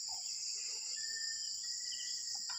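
Crickets chirp at night in a dark rural spot, a dense, steady, high-pitched trill that runs unbroken throughout, with faint scattered background calls beneath it.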